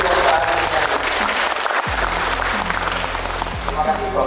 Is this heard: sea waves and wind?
no